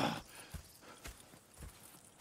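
A horse's hooves clop at a slow walk in the Red Dead Redemption 2 video game, giving several soft, evenly spaced thuds at close range with no one talking.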